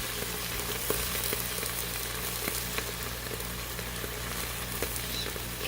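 Dense, steady sizzling of corn on the cob, pineapple rings and peanuts frying on a hot griddle, with scattered sharp pops and crackles throughout.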